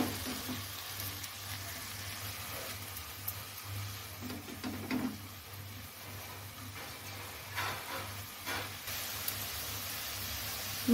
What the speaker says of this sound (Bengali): এটাও ভালো করে ভাজা হতে দেব